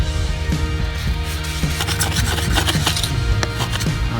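Sandpaper of 180 grit is rubbed by hand over a 2.5-inch PVC water pipe to remove oxidation, a loud, close, continuous rasping scrape with rapid back-and-forth strokes and no talk.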